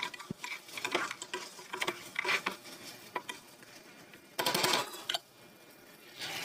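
Meat and spices stirred in a cooking pot, irregular scraping and clinking of the spoon against metal, close and moderately loud, with a denser burst of scraping partway through.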